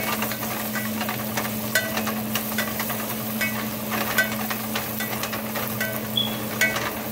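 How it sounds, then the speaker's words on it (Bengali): Chicken curry with cardamom is stirred in a pan, with scattered light scraping clicks over a steady low cooking hum and faint sizzle, close and continuous. "এটাকে ভালো মতো নেড়ে দিব"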